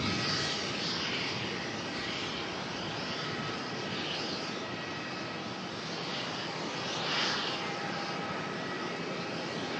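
Airliner engine noise at Melbourne airport as a Qatar jet taxis toward its gate, a steady broadband roar with a slight swell partway through, fairly distant and continuous with no talk.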